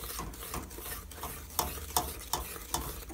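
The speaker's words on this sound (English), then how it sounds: "just keep stirring it before we add our coconut" Heated sugar and salt mixture for coconut macaroons being stirred in a pot, a regular rhythm of scraping strokes about every half second over a soft background sizzle.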